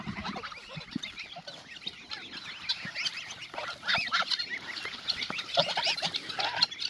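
Geese honk repeatedly on a farm, mixed with chicken clucks and other fowl calls, a busy overlapping chorus at moderate distance with no speech.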